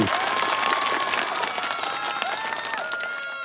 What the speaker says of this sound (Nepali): यो कन्सेप्ट र यो पर्फर्मेन्सको लागि एकचोटि जोरदार ताली